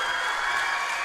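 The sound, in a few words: basketball crowd cheering a 3-point shot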